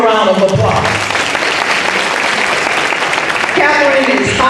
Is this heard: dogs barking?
no